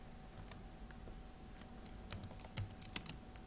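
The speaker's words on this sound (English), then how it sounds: "You need to type into that box Adobe" Light tapping on a computer keyboard while entering a search, quiet and close, in a quick irregular run of keystrokes with no talking.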